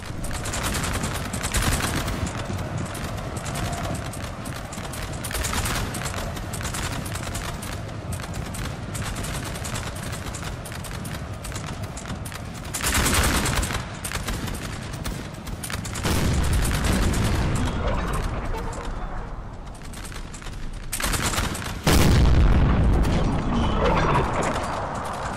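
Massed musket volleys and cannon booms from a Napoleon Total War battle with the Napoleonic III mod, a dense, continuous crackle of distant gunfire with louder heavy bursts near the end.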